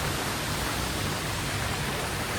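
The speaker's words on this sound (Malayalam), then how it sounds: "ഒരു വെള്ളച്ചാട്ടാട്ടോ അത് വെള്ളച്ചാട്ടം" A waterfall at a village near Pokhara, Nepal, pours steadily. It makes a constant, close, full-bodied rush of water with no breaks.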